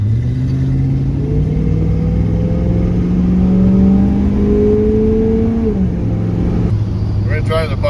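A car fitted with Holley Sniper fuel injection drives along, its steady engine note rising and falling through gear changes, loud and close throughout with no talking.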